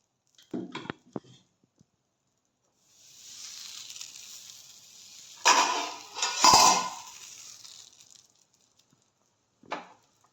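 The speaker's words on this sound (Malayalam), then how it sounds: "ചട്ടി നമ്മൾ ചൂടാക്കി കൊടുത്തു മാവ് ഒഴിച്ചു കൊടുത്ത് കൈ കൊണ്ട് തന്നെ നമുക്ക് കറക്കിയെടുക്കാം" Appam batter is poured into a heated pan and swirled by hand. A few light metallic clinks come first, then a soft scraping and sizzling swirl that swells, peaks and fades, with a last clink at the end.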